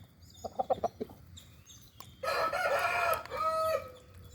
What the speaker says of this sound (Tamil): பாருங்கள், சேவலே வருவார்